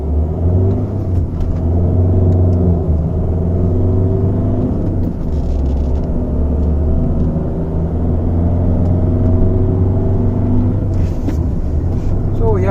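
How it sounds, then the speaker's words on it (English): A Honda City 1.5 i-DTEC diesel sedan pulls away hard from first gear, its engine droning and rising steadily as it gathers speed, heard loud from inside the cabin with a continuous low rumble. "I'm going to see how does this diesel engine perform at higher speeds if I want to drive pretty enthusiastically"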